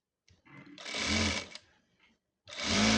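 Sewing machine stitching churidhar lining fabric in two loud bursts of rapid mechanical whirring, separated by a short pause with faint handling noises, close to the listener.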